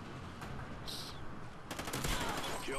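Rapid gunfire from Call of Duty: Ghosts multiplayer, a dense burst of shots close and loud from midway through, over a steady bed of battle noise; no talking.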